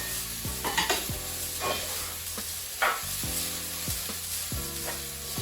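Gyoza dumpling filling cooks in a hot pan with a continuous close sizzle, broken by occasional scraping stir strokes and no voices.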